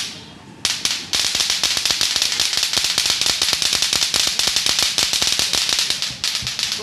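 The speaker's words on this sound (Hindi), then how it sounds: "पटाखे वाली झालर है, ये जो झालर है पटाखा झालर है" A festive light string sounds a rapid, continuous string of sharp firecracker-like pops, crackling loudly for several seconds after a brief quiet start, with no talking.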